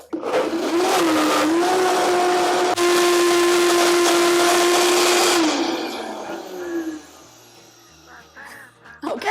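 An immersion blender wand whirs loud and steady through vegan cheese cream, its motor pitch dipping and rising as it works, then winds down and stops, leaving quieter clatter afterward.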